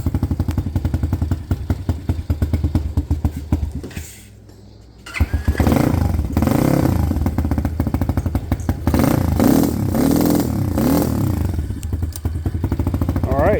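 A SyxMoto dirt bike engine catches after brief cranking, stumbles and goes quiet for a moment, then restarts and idles roughly and loudly up close with revving surges, without talking.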